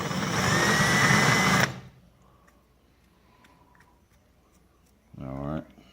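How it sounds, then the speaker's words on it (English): An old drill bit spun in reverse to deburr a carburetor part makes a loud, steady whirring drone for about a second and a half. It then stops dead and is followed by quiet, with a short burst of voice near the end. "See what if I got an old drill bit I can run backwards."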